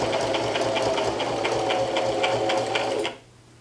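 A sewing machine runs steadily while stitching a half-inch quilt seam on a beginner rag quilt, its fast needle rhythm loud and close, stopping abruptly near the end.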